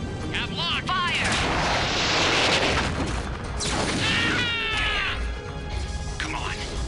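Mech weapons in the game Mechwarrior 3 fire in heavy booming blasts with whooshing, rising tones, loud and dense, as voices talk over the barrage.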